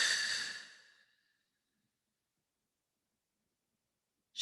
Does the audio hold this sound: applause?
no